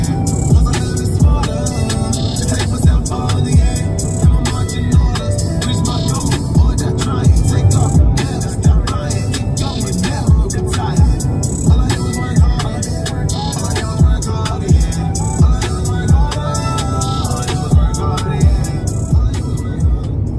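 Music streams over Bluetooth through the stock sound system of a 2020 Kia Telluride EX, a steady beat-driven track with regular thumping pulses, loud and continuous, heard inside the cabin.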